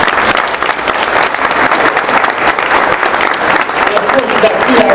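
An audience at a 25th anniversary celebration of multicultural student services claps steadily and loudly, a dense sustained wash of hand claps close by that continues without a break throughout.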